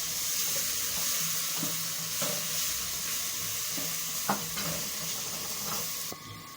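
Tomatoes and onions fry in a pan with a steady close sizzle, broken by the scrape and clink of a spoon stirring them, with no voices.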